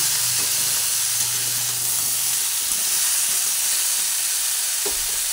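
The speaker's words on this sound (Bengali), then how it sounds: "নুন দিয়ে আবার ভালোভাবে নাড়াচাড়া করে ভেজে নেব" Pumpkin stir-fries with salt in a pan, giving a steady close sizzle and hiss with occasional stirring scrapes, and no one speaks.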